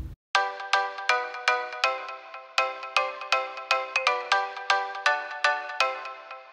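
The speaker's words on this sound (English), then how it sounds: "I have a marimba like bell sound going on." A bright marimba-like bell synth from the Nexus preset Paradise, run through delay, plays a quick, evenly spaced sequence of plucked tones that ring and decay, clear and fairly soft with no voices.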